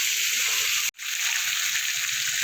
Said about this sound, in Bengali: দিয়ে ভালো করে একটু আদা ভাজা মতো করে নেব